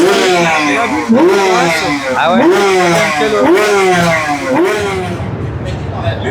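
A motorcycle belonging to a private owner rides a warm-up lap at the Carole circuit, its engine rising and falling in repeated revving sweeps, loud and close throughout while a few people talk over it.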